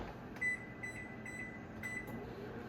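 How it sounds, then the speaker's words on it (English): A microwave oven hums steadily, with a few faint high tones flickering in and out over the drone. "we're just gonna pop it into the microwave for 1 minute and 15"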